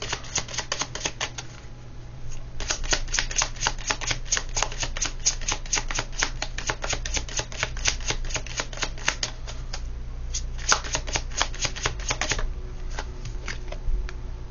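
Tarot cards being shuffled at close range, in two long rapid bursts of crisp riffling clicks separated by a short pause, with no talking over them.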